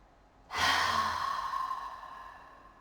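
A slow, deep inhale during a yoga breathing exercise, drawn through the nose close to the microphone. It swells suddenly, then fades gradually over about two seconds, with no speech.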